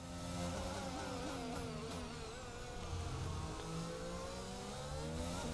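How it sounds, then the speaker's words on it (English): An F1 22 racing car's engine revs steadily and loudly in the video game as throttle is squeezed on, a continuous whining drone with rising and falling pitch that sounds close and runs alone without talk. "Squeeze the throttle on."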